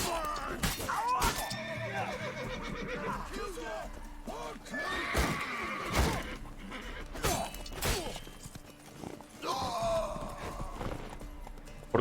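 A horse neighs and whinnies several times in The Witcher 3, with hoof clops, thuds and game sounds mixed in, while someone talks over much of it.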